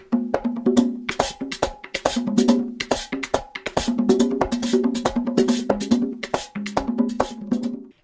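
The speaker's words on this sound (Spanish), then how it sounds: "Lo primero que encontramos en este género es el merengue derecho y eso suena así." Driving merengue derecho percussion at a steady brisk tempo: tambora-style drum strokes, metallic güira scraping and accented hits repeating in a straight, even groove.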